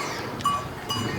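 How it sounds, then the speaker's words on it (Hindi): A jungle-type goat on a goat farm lets out a brief, faint bleat against quiet background noise, followed by a softer second call. "ये जंगलों की बकरी है भाई।"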